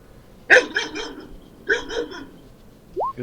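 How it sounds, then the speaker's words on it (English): A dog gives a couple of quick barks in two short bursts, close and fairly loud, followed by a brief rising whine. "It was probably part of that letter that I did not hear because Margot was barking."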